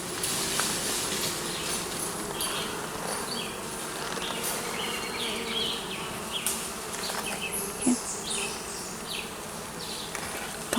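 Honey bees buzz steadily inside a Kenyan top bar hive, a dense close swarm drone with individual bees whining past now and then, alone without voices.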